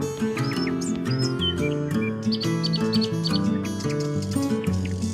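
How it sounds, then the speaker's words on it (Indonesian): Birds chirp and tweet in quick, high calls, some repeated in short bursts, over a steady bed of music with sustained tones. No voices are present. "Allah juga menciptakan berbagai jenis burung yang terbang di"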